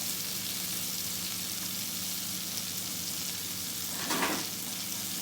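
Finely chopped white onion frying in three tablespoons of melted butter, a steady close sizzle throughout with a brief louder crackle near the end.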